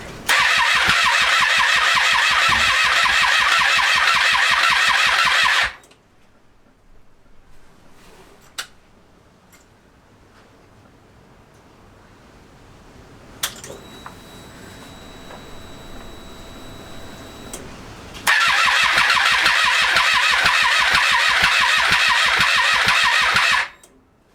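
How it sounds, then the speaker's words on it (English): A Triumph Street Triple motorcycle engine cranks over repeatedly for several seconds without catching, stops, a few clicks follow, then a second long cranking attempt that also fails. "test whether she'll start with that cleaned up sensor"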